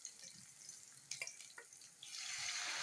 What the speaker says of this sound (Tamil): இப்போ பருப்பு தண்ணி ஊற்றலாம்.